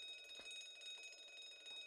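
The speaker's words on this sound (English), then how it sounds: "That sounds like the alarm." Faint alarm ringing in the Herlock Sholmes game, a thin, steady high-pitched electronic bell trill held throughout, quiet and distant.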